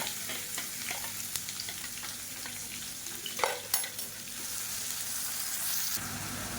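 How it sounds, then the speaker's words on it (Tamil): Chopped onions and green chillies sauté in hot oil with a continuous close sizzle, broken by scattered clicks and scrapes of stirring. No one speaks. "இப்போ வெங்காயம் வதங்கிட்டு இருக்குது."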